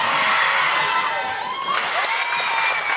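Crowd at a high school basketball game cheering and shouting loudly after a free throw, a sustained roar of voices with some higher children's yells throughout.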